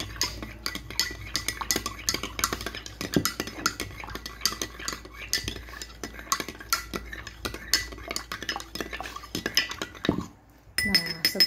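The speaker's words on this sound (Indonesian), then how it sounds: "Lalu kita aduk hingga larutan tersebut tidak ada lagi bulir-bulirnya." A spoon stirs a salt solution in a glass, clinking repeatedly against the sides in quick, uneven taps, close and fairly clear, with a brief pause near the end before the clinks resume.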